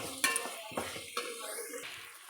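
Spoon scraping and clinking in a pot as chili powder and spices are mixed for egg dum biryani, a few sharp metallic taps over soft stirring, close and moderately quiet.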